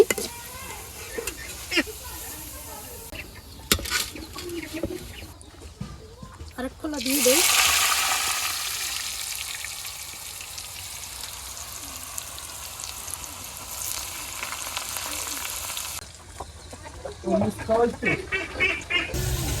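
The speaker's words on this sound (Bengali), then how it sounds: "এবার আলু ভাজা বয় দিলাম" Potatoes frying in oil in a pan, a loud steady sizzle that swells in the middle and fades, with clattering stirs and a person talking before and after.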